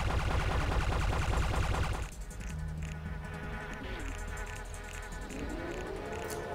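Hive fighter enemies in the Anachronox video game buzz like insects, a steady close drone that is dense at first, then thins out under other game sounds and effects.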